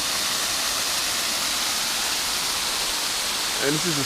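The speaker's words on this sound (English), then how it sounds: "So here's a waterfall" Spring-fed waterfall running year-round in a wooded spot, a steady, loud hiss of falling water from nearby, with a voice briefly at the end.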